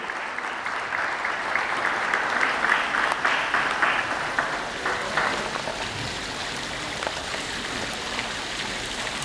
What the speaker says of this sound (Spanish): Démosle un fuerte aplauso a nuestra modelo que porta el traje ceremonial de Quetzaltenango.